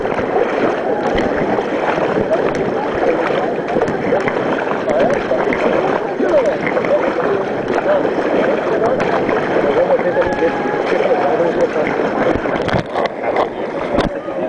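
A boat paddled down the rapids of the Paraibuna river, with continuous rushing, splashing whitewater and wind buffeting the microphone close up, while people talk now and then over the roar.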